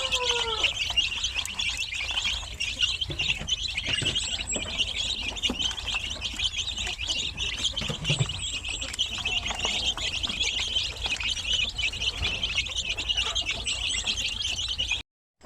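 Young chicks of about a month old cheep constantly in a chicken farm pen, a dense, high chorus of many birds throughout, close and steady.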